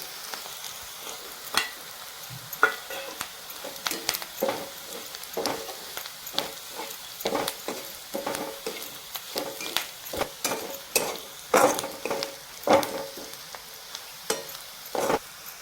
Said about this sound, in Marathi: याला मी चांगलं परतून घेऊ।